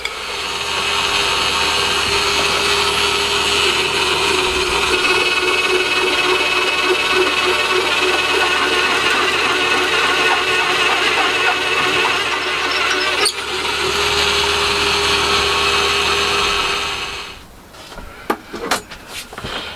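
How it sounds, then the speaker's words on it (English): A power drill bores kingpin holes into a metal billet in a small shed workshop, a loud, continuous whirring grind running steadily for most of the time, then cutting out into a few sharp clicks and knocks. "that's got the holes drilled for the kingpins in that billet"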